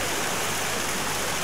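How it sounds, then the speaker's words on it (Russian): A mountain stream running through the town of Calvi in Corsica gives off a steady, loud rush of water, close and unbroken, with no voices over it. "Горная речка, стекающая с гор по территории городка Кальви"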